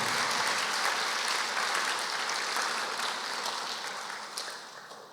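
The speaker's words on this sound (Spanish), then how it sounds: "Den un aplauso al Señor, por favor, por eso." Applause from a church congregation forms a continuous, dense wash of many hands clapping together, moderately loud at first and slowly fading toward the end, with no speech over it.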